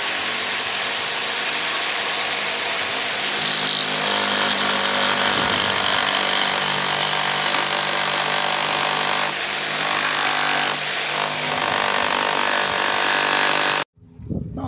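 A power saw blade cuts through wood for a wooden sunflower craft, a loud, steady whining drone with shifting pitch that runs continuously for about fourteen seconds before cutting off abruptly.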